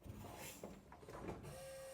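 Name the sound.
electric vacuum pump running for 55 car's brake booster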